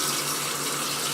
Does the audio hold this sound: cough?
no